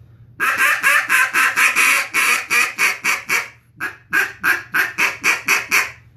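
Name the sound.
duck call imitating duck quacks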